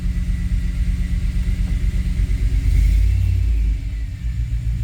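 A Chevrolet Tahoe engine idles while warming up with a low, steady rumble close by, swelling briefly in the middle before settling back.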